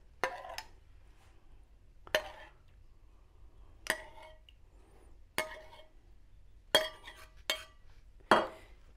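A spoon clinks against a bowl while stirring and spooning fruit glaze onto a mousse cake, giving a series of sharp, quiet taps spaced a second or two apart, some doubled, over near silence.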